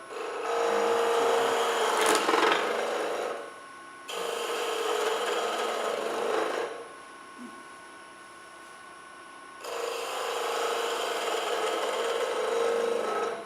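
A skew chisel cuts wood on a lathe with its bevel rubbing, giving a loud steady rasping hiss in three long passes with brief quieter gaps between them, no talking.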